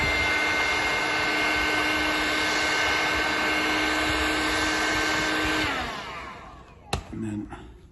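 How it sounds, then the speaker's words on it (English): A heat gun runs with a steady, loud roaring whine while drying a stone surface. It winds down after about six seconds, and a few faint knocks and handling noises follow. "Heat gun on it for a second or two."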